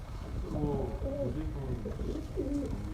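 A pigeon of the Sialkoti breed coos in a series of soft rounded phrases at close range, over a steady low background hum with faint voices nearby.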